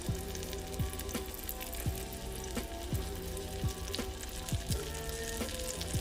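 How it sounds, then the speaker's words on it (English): Chicken thighs sizzle skin side down in melted butter, a steady close frying hiss punctuated by regular crackles and pops with no talk. "our butter has melted, and what I'm going to do is lay these thighs down, skin side down"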